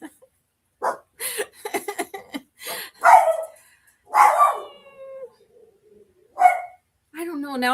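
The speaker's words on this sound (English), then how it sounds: "My dog is dogging, doing his thing." A pet dog barks in scattered bursts at close range, some sharp and some drawn out, with pauses of quiet between them and a person's voice now and then.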